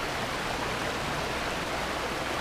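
Water of a river in Tacloban, Barangay Malibayo, Batangas City, rushing over large rocks, a steady, dense broadband wash with no pauses, close and fairly loud with nothing else heard.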